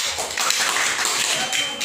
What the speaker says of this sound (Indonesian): beri tepuk tangan untuk kita yang gak berani maju